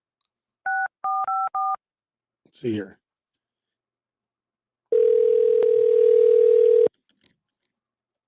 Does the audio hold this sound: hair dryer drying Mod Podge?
no